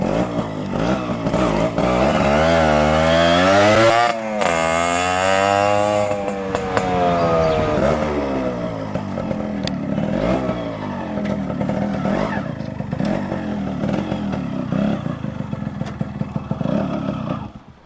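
Two-stroke motorcycle with its original six-hole silencer rides past, close and loud. Its sharp, raspy exhaust note sweeps up and down through repeated revs and gear changes, then settles into a steadier, slightly quieter drone.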